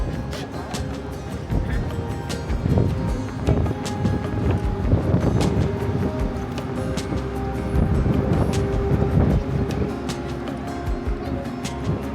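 Strong wind buffets the open deck of a Viking Line cruise ship sailing from Stockholm to Helsinki, loud gusty rumbles hitting the microphone in uneven bursts over a constant low roar.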